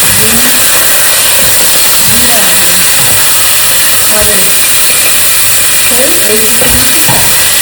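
A spoon scrapes and stirs through duck broth in a pot, with a steady hissing sizzle underneath and a voice talking intermittently.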